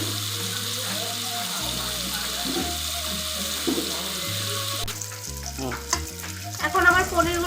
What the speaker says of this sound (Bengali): এখন আমার পনিরগুলো লাল লাল করে ভাজা হয়ে গেছে